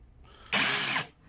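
A Ferrex Pro 40V combi drill whirs in a single short, steady burst of about half a second, loud and close, starting and stopping abruptly against quiet room noise.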